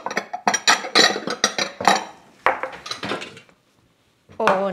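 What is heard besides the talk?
glass jars of mulled wine jam being handled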